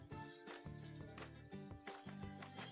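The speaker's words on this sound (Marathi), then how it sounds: "आता हा ब्रेड त्याच्यावरती भाजून घेऊया" Bread slices toast in butter in a pan, giving a steady soft sizzle with slight crackling throughout, no talking.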